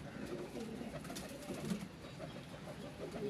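Pigeons coo softly in a loft, a few low murmuring calls drifting over a quiet background without any talk.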